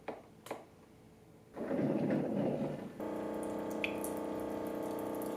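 A Hamilton Beach FlexBrew single-serve coffee maker starts a water-only brew cycle: a couple of button clicks, a burst of gurgling and hissing water, then a steady humming pump drone, close and alone.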